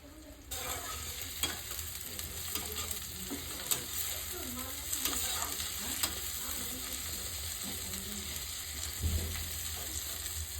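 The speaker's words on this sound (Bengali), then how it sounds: "ভালো করে পেঁয়াজটা নেড়ে চেড়ে নিচ্ছি। লাল করে ভাজানো যতক্ষণ না হয় ততক্ষণ ভেজে নিতে হবে।" Onions fry in hot oil in a pan for a country chicken curry, sizzling steadily while a spoon stirs them in repeated scraping strokes. The sound is close and continuous throughout.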